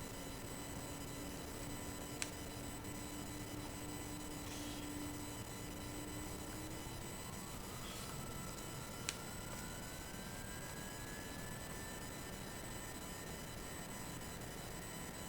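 A SWISS Airlines A330 jet takes off from Frankfurt in Flight Simulator X, its engines holding a steady, noisy roar while a whine rises in pitch as it speeds down the runway, with a couple of faint clicks.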